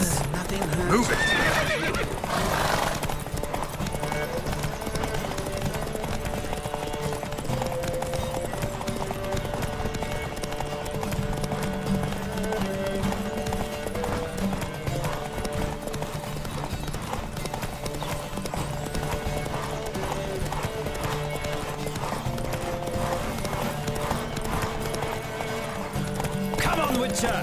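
Rapid hoofbeats from several horses pound steadily throughout a horse race in The Witcher 3, with occasional whinnies and snorts over a busy, continuous background.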